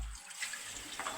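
Food being rinsed under a running kitchen tap, a soft steady splash of water falling into a sink, close and fairly quiet, with no one talking.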